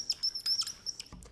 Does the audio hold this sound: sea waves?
no